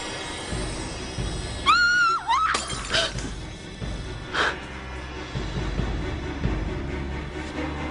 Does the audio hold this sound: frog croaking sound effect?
no